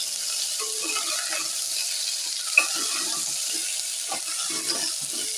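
Small onions (shallots) and drumstick pieces fry with curry leaves in a pan, giving a soft, steady sizzle with one sharp utensil clink partway through and a few faint stirring sounds.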